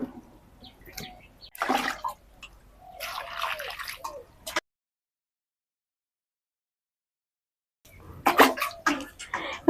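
Water poured into a wok holding washed ash gourd pieces, two close bursts of splashing and gurgling pouring, then a stretch of silence before another short pour with dripping splashes.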